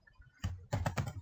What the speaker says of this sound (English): You can type the number here